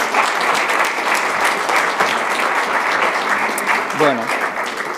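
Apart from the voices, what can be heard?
applause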